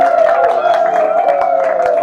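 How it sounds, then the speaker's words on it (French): Wedding guests clap together in a dense, steady patter that carries on throughout, loud and close, mixed with crowd murmur. "On applaudit."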